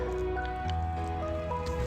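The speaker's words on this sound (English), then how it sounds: "So I'm going to start putting water into this soil." Water is poured into garden potting soil in a container, giving a soft, steady trickling and squishing wetness throughout, close and moderately quiet.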